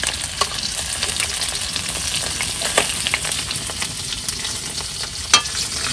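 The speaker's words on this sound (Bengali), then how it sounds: "না মাছ ভাজা হয়ে গেছে, এগুলো নামাই দিচ্ছি।" Fish frying in oil in a pan at night during a fishing outing, a steady loud sizzle and crackle throughout, broken by occasional spatula scrapes and clicks, with a sharper pop near the end and no voices.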